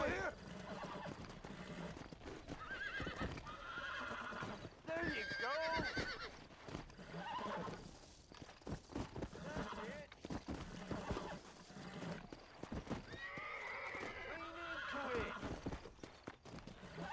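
A horse in Red Dead Redemption whinnies and neighs several times amid clip-clopping hooves and game ambience, close and fairly loud, with someone talking over parts of it.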